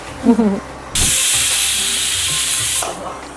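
A loud, steady steam whistle blasts from a pressure cooker cooking millet khichdi for about two seconds, cutting off abruptly; a brief voice is heard just before it.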